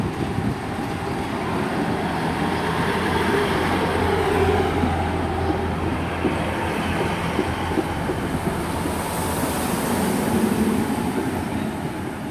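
A Great Western Railway Class 158 diesel unit, 158956, pulls into Cardiff Central station, a loud sustained low engine drone with rumbling wheels and rail noise holding steady for over twelve seconds.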